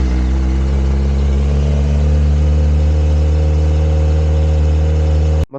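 A Kawasaki ZX4-RR motorcycle on its stock exhaust, just after a cold start, runs at a loud, steady high idle close by for over five seconds before cutting off abruptly, with no talking.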